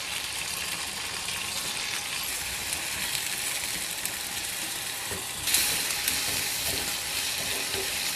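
Ivy gourd (kovakkai) sautéing in a pan, a steady bright sizzle with faint stirring scrapes, continuous and close, briefly flaring louder partway through.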